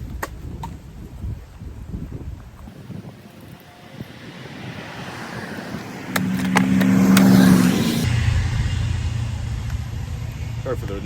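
Passing road traffic beside a roadside firewood stand stacked with eastern hemlock, a steady wash of vehicle noise that swells as a car goes by midway, with wind buffeting the microphone.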